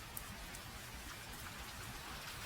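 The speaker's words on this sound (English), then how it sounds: "Rain ticked off the edges." Steady rain patters and ticks on metal plates of a bridge in a dark, neon-lit city, a dense continuous hiss with scattered sharper drops, close and even throughout with no voices.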